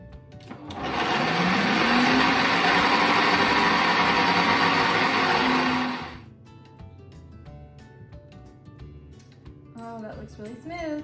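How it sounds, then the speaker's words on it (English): A kitchen blender whirs loudly and steadily, pureeing dates with a cooked saucepan mixture for vegan pecan pie cookies, running about five seconds before stopping abruptly, followed by quieter clatter and a voice speaking. "we have the dates and saucepan mixture in here. And gonna blend it up until it's smooth."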